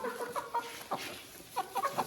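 Young Ameraucana chicks cluck and cheep softly in a coop while being fed cabbage, with short scattered calls that cluster near the start and again at the end.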